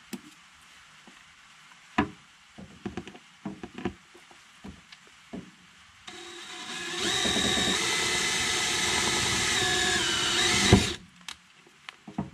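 A power drill drives screws to mount LED rock lights, with a few scattered clicks and knocks before a steady, loud whir of about five seconds that cuts off abruptly, then a couple of taps.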